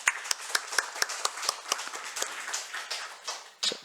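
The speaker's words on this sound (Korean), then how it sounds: "최정재 권사님, 김영구 안수 집사님 격려의 박수 하겠습니다" A church congregation claps in encouragement during Sunday morning announcements, a brisk run of crisp, fairly even handclaps from a small crowd that thins out toward the end.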